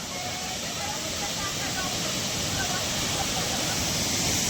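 Chiregind waterfall in the Konkan countryside roars as a dense, continuous rush of falling water, loud and close, steady throughout with no pauses.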